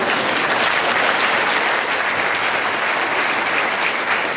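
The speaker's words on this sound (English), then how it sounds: "We can do an applause for that." An audience at Brinkley Middle School in Jackson, Mississippi breaks into loud, dense applause. The clapping holds steady and unbroken throughout.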